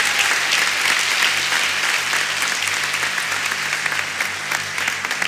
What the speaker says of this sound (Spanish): Un aplauso fuerte por favor para ellos,